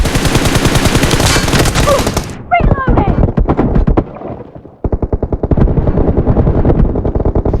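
Rapid automatic gunfire in the battle royale game BGMI/PUBG, dense bursts of loud close shots that break off, give way to sparser scattered shots, then resume in a fast sustained burst. A voice speaks briefly over part of it.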